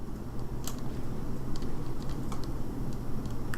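Computer keyboard typing in The Stanley Parable video game: a quiet, irregular run of soft clicking keystrokes over a steady low background hum.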